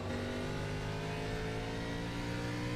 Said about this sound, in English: he's got a good running race car. It sounds good, Jason